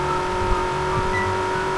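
Koenigsegg Jesko engine revving in the Car Parking Multiplayer video game, a steady high-pitched engine whine held near constant at full revs, loud and close, with no voices.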